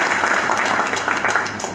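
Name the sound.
applause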